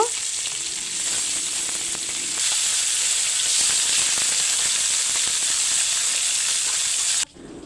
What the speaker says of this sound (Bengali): এখন একইভাবে বাকি মাছগুলো ভেজে নেব